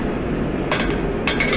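Two sharp metallic strikes of a hammer on hot metal at a forge ring out close by, one after the other with a short pause, over a steady low background hum.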